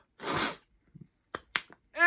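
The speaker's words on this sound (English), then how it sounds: "I have to sneeze." A single sharp sneeze bursts out close up, followed by a few quick breaths and small mouth sounds in a quiet room.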